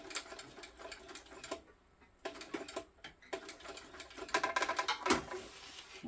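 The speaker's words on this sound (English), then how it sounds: "The goal is to sew the top part of this strap connector onto the the main panel itself." A sewing machine stitches a strap connector onto a fabric panel in rapid mechanical bursts, pausing briefly twice before running again in close, clattering runs.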